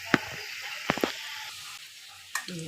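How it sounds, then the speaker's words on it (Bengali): Sitabhog sweets fry in hot oil with a soft, short sizzle. A few sharp crackling bursts spike near the start and again near the end. "এগুলো করে ভেজে নিবে সাদা সাদা করে, লাল যেন না হয়।"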